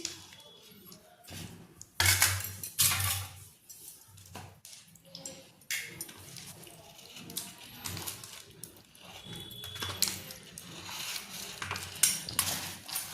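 Dishes clink as snacks are served onto plates at home, with sporadic close knocks and scrapes of crockery and cutlery between quieter moments.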